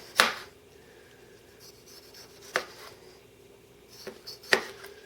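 An Aero Knife slicing through a tomato, heard as three or four sharp, close cutting strokes or taps against a board at irregular intervals, with faint rubbing and scraping in the quiet gaps between.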